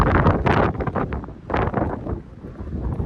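Strong wind at the coast by a lighthouse buffets the microphone in loud, irregular gusts, roaring and rumbling with brief lulls between blasts; no one speaks.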